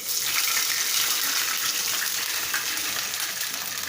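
A small glass of water goes into a hot pan of chilli and coriander tempering for khaman dhokla, giving a steady rushing, sizzling hiss that holds for about four seconds without speech.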